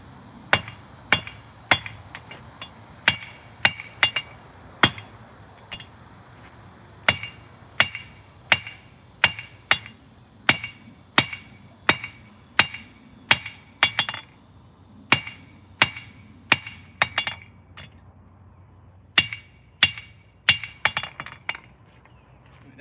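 Hammer blows forging metal on a cast iron anvil, sharp ringing strikes repeated at a steady working rhythm, close and loud, with short pauses between bursts.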